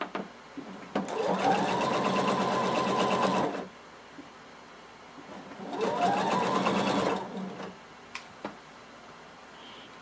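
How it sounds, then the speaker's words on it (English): A sewing machine sews a seam on a floor-length duster cardigan in two distinct runs of a couple of seconds each, a steady mechanical whir with a pause and light clicks between. "now we're just going to sew using 5/8 of an inch seam allowance"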